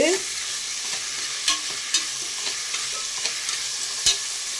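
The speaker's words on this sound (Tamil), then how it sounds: "போட்டு எல்லாம் நல்லா வதக்கிடுவோம்" Vegetables sautéing in a pan for Tamil-style sambar rice, a steady close sizzle with a few sharp scrapes and clinks of a spoon stirring through it, heard alone without talk.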